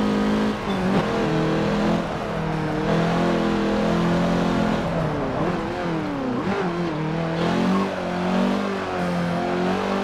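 A race car engine in Forza Motorsport 7 revs hard and continuously, pitch climbing and dropping through gear changes with a brief dip around the middle, loud and close with no voices.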